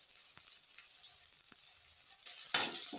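Onions, tomatoes and curry leaves sautéing in a pan for a village-style crab curry, giving a soft steady sizzle with faint stirring scrapes and a louder burst of frying near the end.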